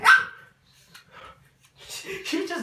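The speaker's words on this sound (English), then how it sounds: "You just barked at me." A dog barks loudly and close at the start, followed by quieter yips and whimpers, with someone talking over the later part.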